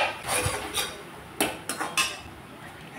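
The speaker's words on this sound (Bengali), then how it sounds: "ঢাকনা খুলে দিলাম।" A metal lid lifted off a cooking pot, giving several sharp clanks and clinks of metal against metal, some louder than others, over a low kitchen background.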